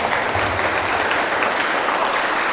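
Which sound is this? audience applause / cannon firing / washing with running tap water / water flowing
audience applause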